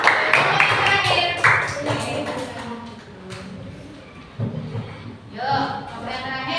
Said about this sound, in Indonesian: Boleh tepuk tangan buat Pak Wiswa